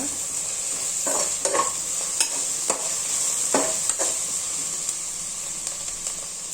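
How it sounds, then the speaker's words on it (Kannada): Crushed garlic fries in hot oil for beetroot palya. It makes a loud, steady sizzle and hiss, broken by the scrape and clatter of a spatula stirring the pan. "ಹಾಕಿ ನೀಟಾಗಿ ಒಂದು 5 ನಿಮಿಷ ಫ್ರೈ ಮಾಡ್ಕೊಳ್ಳೋಣ."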